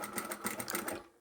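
A sewing machine back-stitches along a zip, its needle chattering in a quick, even rhythm of close, moderately quiet stitches for about a second before stopping.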